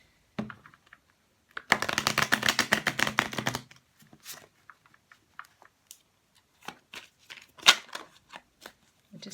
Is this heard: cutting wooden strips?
no